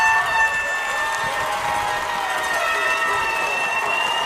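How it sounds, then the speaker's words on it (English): Brampton home crowd at a youth under-16 football championship game cheering after a touchdown, a steady dense roar of many voices with shouts, fairly loud and continuous throughout. "Listen to this Brampton crowd."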